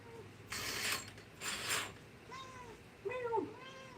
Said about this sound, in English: my cat's hungry